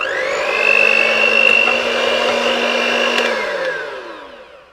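Electric mixer whirring steadily as it beats egg for muffins in a narrowboat kitchen, a loud continuous motor hum with a pitch that rises early, holds, then winds down and fades at the end, no talking.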